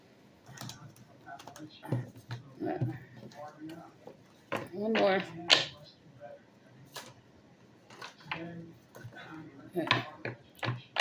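Tarot cards are shuffled with dry papery riffles and bursts of flicking and tapping, interrupted by pauses while a person speaks briefly in between.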